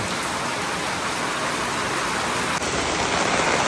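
Heavy rain pours down steadily in a dense, unbroken hiss, loud and close throughout with no voices.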